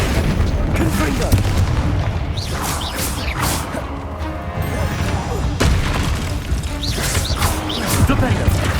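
Spell blasts from Confringo casting in Hogwarts Legacy, heavy booming explosions and crashing impacts repeating through a dense, loud game mix with other spell effects.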